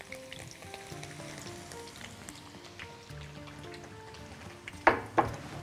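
Potatoes frying in hot oil give a soft, steady sizzle at low volume, with a couple of brief clinks or stirring sounds near the end and no talk.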